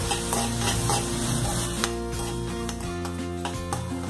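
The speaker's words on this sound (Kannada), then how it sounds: "ಶುಂಠಿ ಮತ್ತು ಬೆಳ್ಳುಳ್ಳಿಯ ಹಸಿ ವಾಸನೆ ಹೋಗುವವರೆಗೆ ಒಂದು 2 ರಿಂದ 3 ನಿಮಿಷ ಈರುಳ್ಳಿ ಜೊತೆಗೇನೆ ನಾವು ಇದನ್ನ ಕೈ ಆಡಿಸ್ಬೇಕು." Ginger, green chilli and garlic paste stirred and fried with chopped onion in a pan, a continuous close sizzle with repeated scraping strokes of a ladle against the metal, steady and moderately loud.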